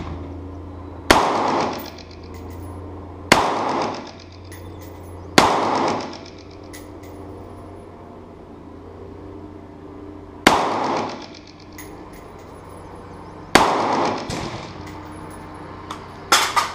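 Rifle shots from a PSA Freedom fired while sighting in, five sharp loud cracks spaced a few seconds apart, each followed by a short decaying echo, with quiet gaps between.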